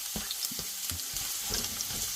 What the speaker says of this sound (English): we're going to start sauteing our onions